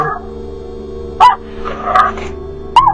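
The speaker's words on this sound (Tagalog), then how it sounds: "Nasa harap ko lang ang kumakahol at tumaangil na maliit na aso." A small dog gives a few short, sharp barks and yips at intervals, close by, over a low steady background hum with no talking.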